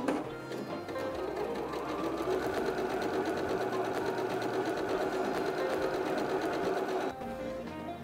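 A sewing machine stitches quilt blocks for Dutchman's puzzle hot pads, humming continuously at close range for about seven seconds before stopping, with no voices.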